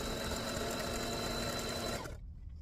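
A sewing machine stitches a jumbo pillowcase with a fast, steady mechanical whirr close by, running evenly for about two seconds before stopping abruptly into near quiet.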